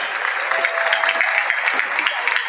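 A convocation audience applauds laboratory school students, a steady wash of many hands clapping in a large hall, moderately loud and continuous, with a faint voice mixed in underneath.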